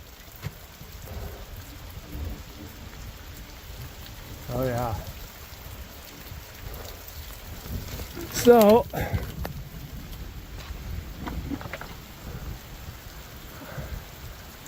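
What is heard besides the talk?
heavy rain pouring with thunder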